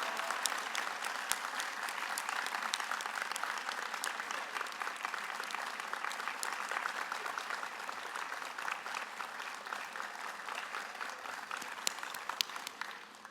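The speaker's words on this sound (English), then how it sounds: "Let's give President Thomas another round of applause." Sustained applause from a large commencement crowd, even and continuous throughout, heard from a slight distance without any voices standing out.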